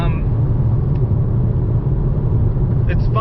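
A brand new rental car driving through traffic fills the cabin with a steady, loud, low engine and road rumble that stays even throughout, with a couple of faint clicks near the end.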